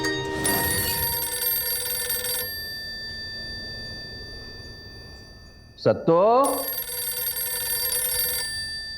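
A telephone bell rings loudly in repeated bursts in a room, stopping for a few seconds and then resuming, with a voice calling out between the rings.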